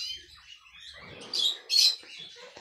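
Female canary in a nest she has built, giving a few faint high chirps and two brief louder tweets over soft rustling, close by and without talk.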